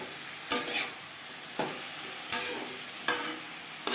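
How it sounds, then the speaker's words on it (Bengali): Pumpkin pieces with salt and turmeric are stirred in a hot frying pan with black cumin, giving about five rhythmic scraping strokes over a soft, steady sizzle. "লবণ হলুদ কুমড়োর সাথে বেশ ভালো করে মিক্স করে দেবো।"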